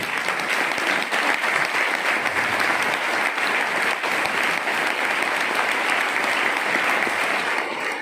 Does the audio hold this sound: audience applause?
yes